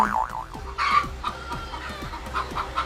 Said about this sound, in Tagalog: may nagliligawan na namang manok dito sa amin.